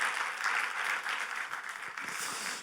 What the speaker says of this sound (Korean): 다시 한번 박수 한번 보내주세요.